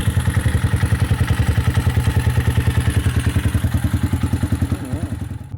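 A Bashan Brozz 250 motorcycle engine runs on its first startup after a clutch change, with a steady, rapid, loud thumping exhaust beat close by that eases slightly near the end.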